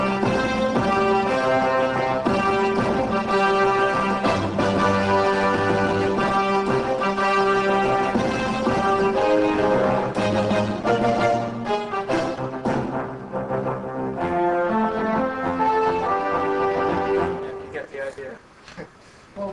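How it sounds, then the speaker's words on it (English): Korg M3 synthesizer in combi mode playing several layered and split sounds together, a dense, continuous, loud passage of sustained chords and melody that thins and trails off near the end. "Now I'm just going to jump into combi mode, where you have control of up to 16 sounds at once"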